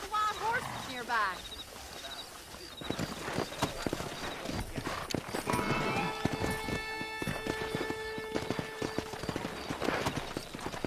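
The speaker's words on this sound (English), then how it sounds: "there's a pack of wild horses nearby" Wild horses in the video game Red Dead Redemption, hooves clip-clopping and thudding at a gallop with occasional whinnies, mixed with game music and ambient effects.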